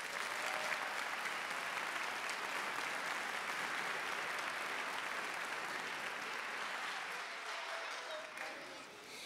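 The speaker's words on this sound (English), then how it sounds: "Let's give them one last round of applause." An audience at an elementary school spring concert applauds for kindergarten and first grade performers, with steady, dense clapping from a large crowd that carries through and tapers slightly near the end.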